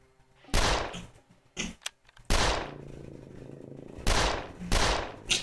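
Several sharp, loud gunshots from the video game 13 Days in Hell ring out in irregular bursts with echoing tails, a few single cracks between them, no voices.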